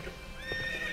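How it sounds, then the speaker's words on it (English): Horse neighing in the video game Sonic and the Black Knight, a short whinny with light galloping hoofbeats, fairly clear and unaccompanied by talk. "Why does the horse make galloping sounds when he's in the air?"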